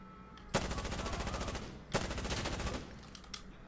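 Honey Badger rifle fire in Insurgency Sandstorm comes as two loud, rapid automatic bursts of about a second each, close and crisp, followed by a few fainter scattered shots.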